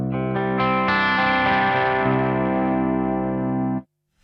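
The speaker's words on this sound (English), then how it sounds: "This is the sound of the amp." A guitar amp played on its own without an overdrive pedal: a few quick picked notes lead into a strummed chord that rings out loud and sustained for several seconds before being muted to near silence.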